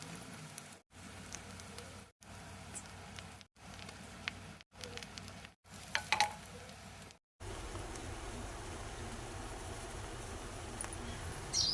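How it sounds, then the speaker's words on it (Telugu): Ginger garlic paste fries in oil until reddish, a dense, rain-like hiss and patter heard close. It is cut by several short dropouts before it settles into a continuous sizzle. "అదే నూనెలో అల్లం వెల్లుల్లి పేస్ట్ వేసేసి ఎర్రగా వేయించుకోవాలండి"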